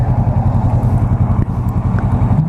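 A new Kawasaki Vulcan S motorcycle rides through a neighborhood, its engine a loud, close, steady low throb with rhythmic pulsing and no speech.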